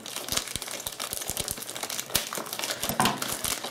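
A knife slitting open a package holding a pink Realtree camo iPhone 5/5s case, with crisp crinkling and tearing of plastic wrap and a string of short sharp clicks, close and steady.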